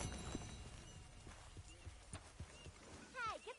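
Hooves of a horse in Red Dead Redemption 2 clip-clop in a loose rhythm close by, mixed under game ambience and bursts of talk, with a brief trilling sound near the end.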